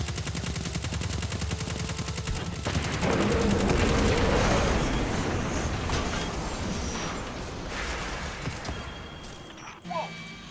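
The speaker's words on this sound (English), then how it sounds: "Whoa! Who's blowing stuff up without me? I'm gonna get eyes on that explosion." Explosions and gunfire crackle in a Destiny 2 Forsaken battle: dense, rapid bursts of shots and blasts roll on together, loud at first, then slowly thin out, ending in one sharp pop.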